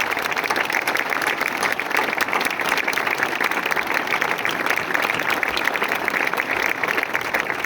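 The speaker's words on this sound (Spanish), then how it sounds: "Por eso quiero pedir nuevamente un aplauso de reconocimiento a Reyes" Sustained applause from an audience at the inauguration of a political party's local headquarters in Orihuela, dense and steady clapping throughout without a break.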